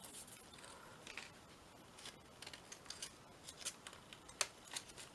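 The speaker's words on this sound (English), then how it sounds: "Let me just snip a tiny little bit more off." Small scissors make light, quick snips while trimming paper for a paper bag pocket, several short crisp cuts scattered over a faint, quiet background with no talking.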